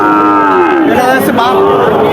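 A cow moos loudly and close by at a cattle market, one long drawn-out low call that wavers in pitch, with faint background murmur.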